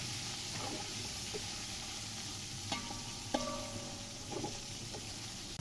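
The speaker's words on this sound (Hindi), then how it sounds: "टमाटर को भी भूनेंगे अच्छी तरह से।" Tomatoes and green chillies fry in a pan for a beef keema yakhni pulao, giving a steady low sizzle with a few soft clinks and scrapes of stirring.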